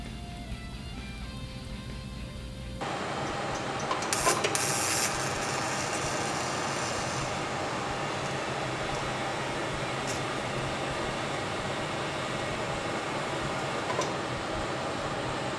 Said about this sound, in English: I had to turn down this part of the Chinesium V-band.